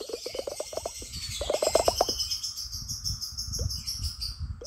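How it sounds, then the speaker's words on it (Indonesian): Rapid, repeated bird chirps in quick bursts, fairly close, over a steady high insect trill and some low background rumble. "Oh my god, bunyi burung."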